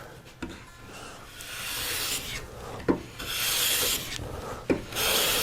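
A hand plane set up for smoothing shaves a very thin wisp off a wooden board, giving repeated soft rasping strokes with brief sharp catches at the start of each pass, close and alone.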